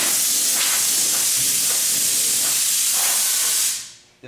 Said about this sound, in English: So we're gonna blow it and wipe it off right now.